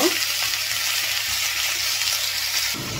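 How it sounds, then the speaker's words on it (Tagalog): Onion, garlic and ginger sauté in a pan for salmonete paksiw, giving a steady, loud, hissing sizzle up close that changes slightly near the end, with no talking. "ginigisa ko itong onion, lahat ng mga ingredients ko na ganito sa sibuyas, bawang at luya"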